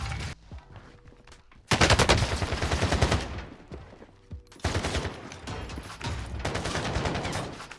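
Rapid bursts of automatic gunfire from the video game Call of Duty Warzone, loud and close, in two long crackling volleys separated by a short lull.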